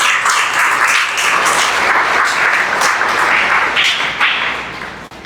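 Congregation at a church service applauding, a dense, sustained wash of many hands clapping together at steady loudness, fading out toward the end.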